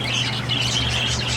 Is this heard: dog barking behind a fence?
no